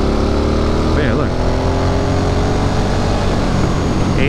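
A motorcycle cruising at around 80 mph, its engine droning steadily and loudly close by under rushing wind, with the pitch settling as it engine brakes; a voice talks over it.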